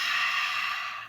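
A single long, forceful exhale through the nose during Kundalini yoga breathing, a close breathy rush that holds steady and then tapers off.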